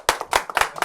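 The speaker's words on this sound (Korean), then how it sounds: "박수 한번 쳐줘." A few people give a quick, brief burst of hand clapping, several sharp claps close together in under a second, heard up close.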